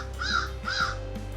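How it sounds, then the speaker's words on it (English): Crows caw twice outdoors in the morning, two clear harsh calls close together, followed by quiet. "Got the crows out this morning."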